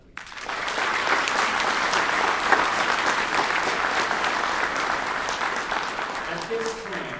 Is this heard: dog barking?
no